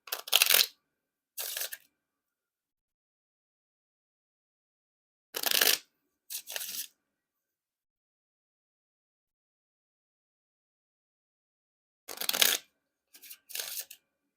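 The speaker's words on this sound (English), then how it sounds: "And now time for the Riffle Shuffle or Bridge Shuffle." Brief riffle and bridge shuffles of a new brown Bicycle Aviary playing card deck, crisp close fluttering bursts in three separated pairs with silence between them.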